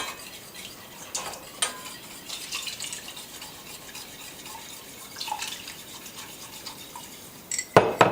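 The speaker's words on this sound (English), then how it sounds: "Then we add slowly a little bit milk and heavy cream. And constantly whisk." Milk and heavy cream whisked in a pot on the stove, a continuous soft metallic swishing with occasional clinks of the whisk against the pot, quiet and close, ending in a few louder knocks.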